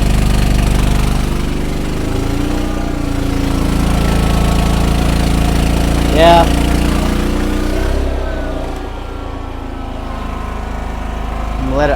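A Harbor Freight Predator 5000 generator converted to run on natural gas idles steadily nearby, a continuous low engine drone with a brief voice partway through.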